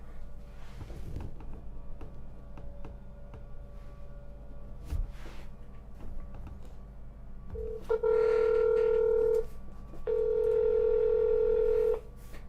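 A phone call to a county prosecutor's office in Warren County, Ohio, starts with faint dialing clicks, then two long ringback tones sound in steady succession over a low background hum.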